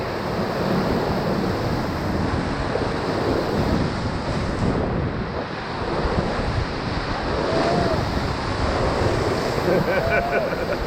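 Continuous rushing water and heavy splashing waves from Class III rapids on the Middle Ocoee River, heard while rafting, loud and close, with wind buffeting and faint voices underneath.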